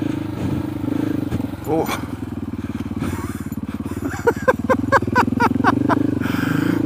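Off-road motorcycle on a rough OHV trail, the engine droning steadily while rocks and dirt crunch and clatter under the tires, with a brief exclamation from the rider.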